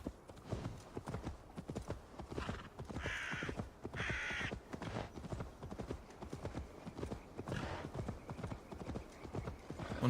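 Horse hooves clip-clop at a steady galloping rhythm throughout an Assassin's Creed Valhalla game scene, with crows cawing and a brief whinny over the hoofbeats and faint talk in the background.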